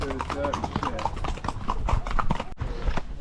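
Horse hooves clip-clop steadily as riders travel through a Colombian jungle, the rhythmic clopping close and clear beneath lively talk and laughter among the group.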